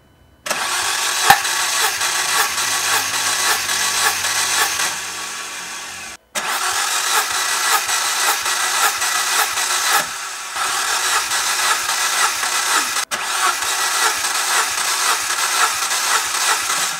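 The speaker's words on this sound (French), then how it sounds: "bougie enlevée, le moteur il force pas trop" An Audi A4 1.8T engine cranks with its spark plugs removed, continuously with a fast, even whirring rhythm, never catching, in three long stretches broken by brief pauses.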